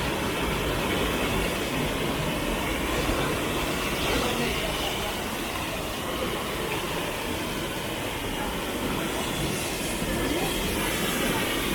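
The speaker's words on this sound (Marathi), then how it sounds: "हे बघा धबधबाचा आवाज बघा कसला कडक आहे" A waterfall in the Konkan roars during the monsoon in a loud, constant broadband wash, steady and unbroken from start to finish, close to the listener.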